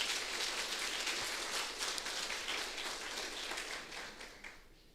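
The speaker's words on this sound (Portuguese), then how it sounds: "Quem acredita nisso, dá uma salva de palmas para Jesus." A church congregation claps for Jesus during a sermon, a dense, hissing wash of many hands at a moderate distance that slowly fades toward the end.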